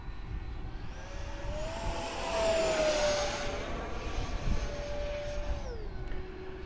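An FF-117V2 70mm electric ducted fan RC jet screams past at full throttle, a whining tone rising then dropping in pitch as it sweeps by at a distance, fairly faint over outdoor ambience.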